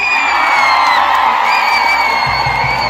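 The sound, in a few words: crowd applause and ululation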